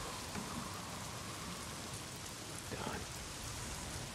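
Rain falls steadily in the Days Gone video game, a soft even hiss of drops on surfaces, faint and continuous.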